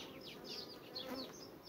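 Honeybees buzz around an open beehive during a sunflower honey flow, a steady close swarm drone with individual bees whining past the microphone.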